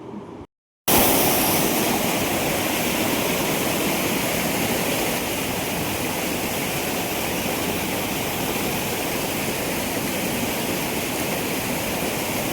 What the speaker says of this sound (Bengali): এই হচ্ছে পুরো বামনি ফলসটা এখানে জলটা এসে পড়ছে